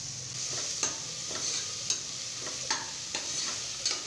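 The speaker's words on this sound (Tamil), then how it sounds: "புதினா கொத்தமல்லி போட்டு அதையும் சேர்த்து நல்லா வதக்கி விட்டுக்கலாம்" Mint and coriander leaves stir-fried in a pan while making mutton biryani give a steady soft sizzle, with a spatula scraping and tapping against the pan every second or so.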